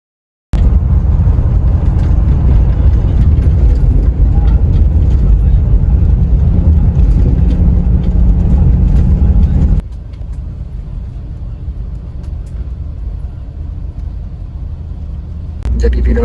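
Steady, loud low-frequency engine rumble from a sleeper bus pulling away from a mall terminal in Kemayoran at night, with heavy road drone that drops in level partway through.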